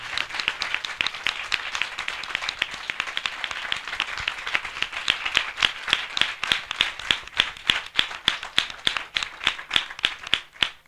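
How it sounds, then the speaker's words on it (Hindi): A church congregation gives a welcome of loud clapping that starts as dense applause and settles into strong, rhythmic unison claps, steady and close throughout. "हम जोरदार तालियों से उनका स्वागत करें"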